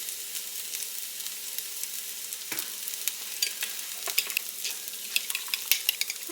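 Egg seasoned with salt, pepper and onion powder being scrambled in a hot pan, a steady sizzle with scraping stir strokes throughout, close and fairly loud with no talking.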